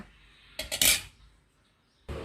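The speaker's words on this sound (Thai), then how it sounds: "เราก็ จะคลุกให้เขาเข้ากัน" Raisins being tossed with two tablespoons of all-purpose flour in a bowl for cupcakes, heard as a short cluster of scraping, clinking bursts, then a pause and another burst at the end, with no talking.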